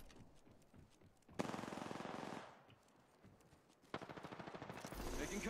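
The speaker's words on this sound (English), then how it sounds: "I'm under fire." Gunfire in the video game Apex Legends: two loud bursts of rapid automatic fire, each lasting about a second, with fainter shots and game sounds between them.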